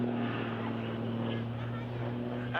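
An Extra 330SC aerobatic plane passes at an air display, a steady droning propeller tone held throughout at moderate distance, with a commentator's voice heard over it.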